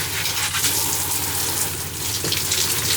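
Hot water running from the shower tap inside a converted van, a steady, close gushing hiss that continues without pause from start to finish.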